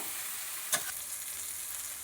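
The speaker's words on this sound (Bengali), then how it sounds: "এক চামচ লঙ্কার গুঁড়ো দিয়ে ভালো করে মশলাটা কষতে হবে" Chili-powder spice paste stir-fries in oil with a soft, even sizzle, broken once by a sharp clack of the spoon against the pan, with no voices.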